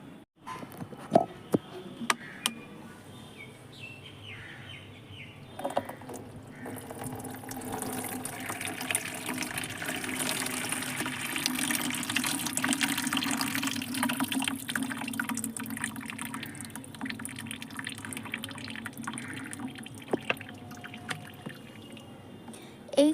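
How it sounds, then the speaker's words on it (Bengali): Water soaked with banana peels is strained from a bottle, pouring and trickling in a steady stream with a few sharp knocks early on and a slight rise in the middle. "এইবার এই বোতলের যে জলটা সেটাকে আমরা ছেঁকে নেব"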